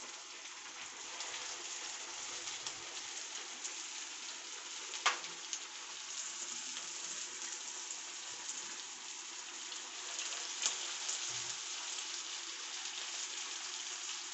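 Sabudana tikki shallow-frying in a little oil in a pan gives a faint, steady hiss and crackle throughout, with an occasional louder pop and no talk.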